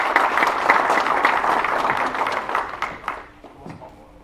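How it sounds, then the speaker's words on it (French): Applause from an audience greeting the director of a McGoodies agency in Amiens at a sports club partners' evening, a dense spread of clapping that fades toward the end with some talk underneath. "Applaudissements pour Maki, s'il vous plaît."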